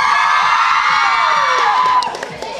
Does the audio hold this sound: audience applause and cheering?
yes